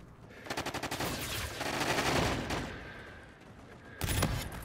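Light machine gun fired in Call of Duty: Infinite Warfare, a rapid automatic burst of evenly spaced shots followed by heavier mixed gunfire and another loud burst near the end, up close over game noise.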